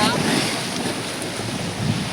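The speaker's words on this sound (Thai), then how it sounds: "ทะเลปราณบุรีแล้วค่ะ" Sea waves roll onto the beach at Pranburi under strong wind buffeting the microphone, a loud continuous roar with surf washing in.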